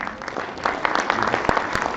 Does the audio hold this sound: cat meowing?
no